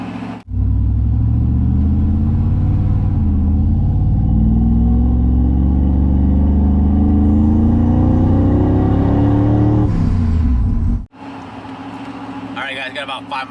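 A supercharged 1995 Ford Lightning pickup drives and accelerates, its engine note rising steadily in a loud, close rumble for about ten seconds before cutting off, followed by quieter road noise.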